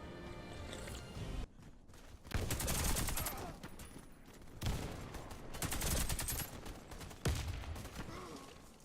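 Gunfire in the shooter game WarFace, bursts of rapid automatic shots and booming impacts coming in dense waves with short pauses between, loud and close.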